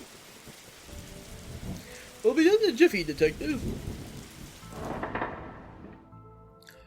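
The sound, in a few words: rain in The Darkside Detective video game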